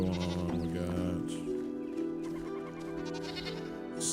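Goats on a farm in the game Enshrouded bleat over background music, several wavering calls at moderate distance, fairly quiet and partly blended with the musical score.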